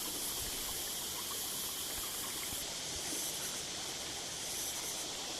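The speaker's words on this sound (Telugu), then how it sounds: "వాటర్ చాలా చక్కగా పోతూ ఉన్నాయి." Water flows in a stream winding between hills around a small village at Bandhakonda, a steady, even rush of hiss with no breaks, close and unchanging throughout.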